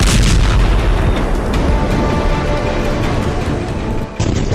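A large explosion in Tartus, Syria, sounds as a sustained thunderous roar with deep rumbling and crackling bursts, loud and unbroken until a brief dip near the end; no speech.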